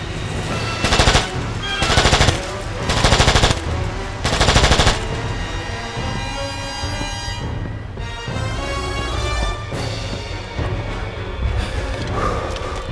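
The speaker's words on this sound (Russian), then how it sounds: "Пофиг на этот пулемет" Bursts of machine gun fire in the King Kong action video game, several loud rapid volleys in the first five seconds, then a steady busy backdrop of game sounds and music.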